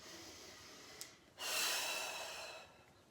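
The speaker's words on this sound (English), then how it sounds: "and keep breathing." Breathing during qi gong practice: a quiet breath, a brief pause, then a long airy exhale that fades out.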